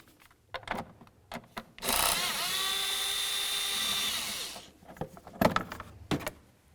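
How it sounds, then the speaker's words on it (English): An 8mm socket wrench works loose the engine cover bolts on a 1999-2007 Chevy Silverado, giving a sustained ratcheting whir of about two and a half seconds between short clicks and handling knocks, close and fairly loud. "Let's get this cover off of here using our 8mm socket."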